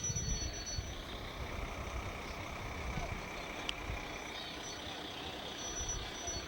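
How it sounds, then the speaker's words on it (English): A fire truck rolls along in a small-town kids' parade, a low diesel rumble with steady outdoor crowd noise and distant chatter, one brief sharp click partway through. "And the fire truck."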